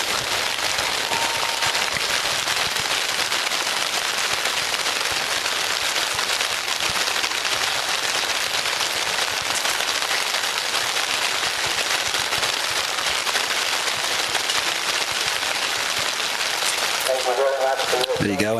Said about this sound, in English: During that, you would hear the rain coming through our marquee here at the moment.